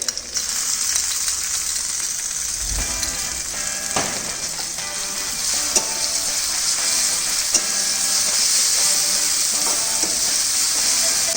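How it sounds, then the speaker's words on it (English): Chopped ginger, garlic and brown onion paste fry in a pan with a steady broadband sizzle, while a spoon scrapes and stirs in irregular clanks and knocks throughout; no one speaks. "add chopped ginger and garlic. Just lightly mix for a minute. Then add brown onion paste."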